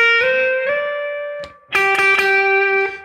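Overdriven electric guitar note slides up the fretboard in two steps on a minor blues lick, ringing and sustained, then a few picked notes follow, clear and alone.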